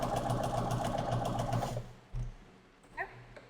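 A sewing machine stitches a quilt seam with a steady rapid needle rhythm for nearly two seconds, then stops, leaving a few soft clicks and handling sounds.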